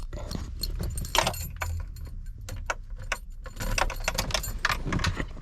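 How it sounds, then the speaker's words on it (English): A bunch of several keys jangles and rattles close by in a Toyota Land Cruiser FJ before a cold start, with bursts of clinking metal across a few seconds. "Several keys."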